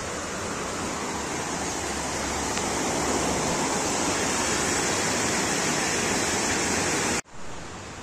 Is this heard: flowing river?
yes